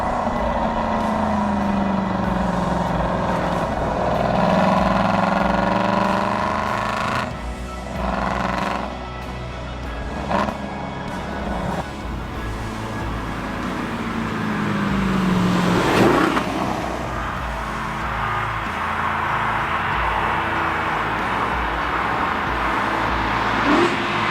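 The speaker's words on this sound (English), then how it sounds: "the amplified exhaust note just reminded me about how awesome it would have been if I had done this" Straight-piped Aston Martin V8 Vantage exhaust rumbling loud and close, with rising and falling revs and a sharp throttle blip near the middle over a steady low drone.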